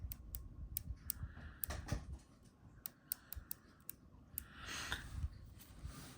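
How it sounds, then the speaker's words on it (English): Light, crisp clicking from the spool tension knob of a Fishband Clamber fishing reel as it is turned, a quick run of close, faint ticks in irregular bursts over low background hum. "We have clicky spool tension."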